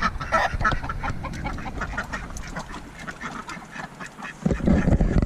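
Farmyard ducks kept alongside chickens quack repeatedly in quick, uneven bursts, fairly close and clear, with a louder flurry near the end.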